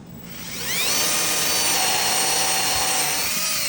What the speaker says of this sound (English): In order to cut that, I'll drill me a starter hole.